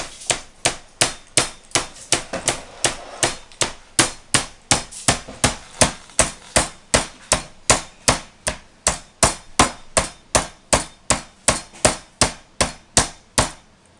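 A meat mallet pounds pork loin strips flat for zigeunerschnitzel, about forty loud, evenly spaced thuds in a steady rhythm, close up and with no talk over them.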